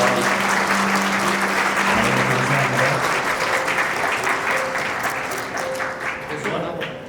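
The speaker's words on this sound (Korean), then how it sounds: "여러분 큰 박수 부탁드리겠습니다" Loud, dense applause from a wedding audience greeting the bride's father, sustained over several seconds and slowly tapering, with faint voices and a low tone underneath.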